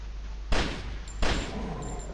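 Two sharp gunshots from a zombie survival video game, about three-quarters of a second apart, each loud burst fading into a short ringing tail with no talk over them.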